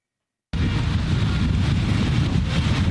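Strong wind buffeting outdoors near an aerial reconnaissance drone unit, a steady loud roar that starts abruptly and continues unbroken with no voices.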